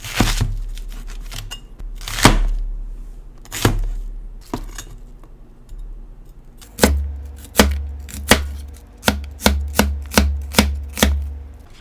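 A knife chops onion steadily on a cutting board, slow irregular strokes at first, then a quicker even rhythm of close, sharp thuds.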